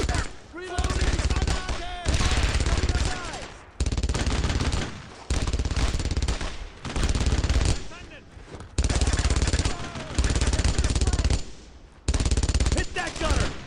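Loud machine gun fire in the World War II shooter Brothers In Arms: Road to Hill 30, coming in repeated sustained bursts separated by short pauses, with voices shouting over the gunfire.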